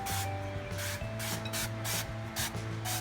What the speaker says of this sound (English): I'm just gonna spray my dish, okay?